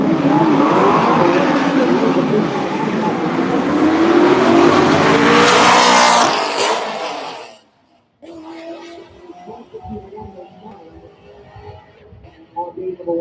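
Drag race launch of a blue 2018 Camaro and a dark red 1995 S10: a loud, roaring engine surge with tire squeal builds for several seconds, cuts off abruptly, then gives way to fainter crowd and track noise.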